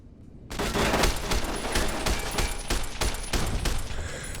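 Automatic ceiling turrets in Fallout: New Vegas open fire abruptly after a brief quiet, loud rapid bursts of gunfire continuing to the end without talk.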